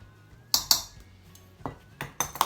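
Light metallic clinks and scrapes from a measuring cup of dry baking ingredients being leveled against a flat edge, a few sharp close taps and rattles with quiet gaps, no talk.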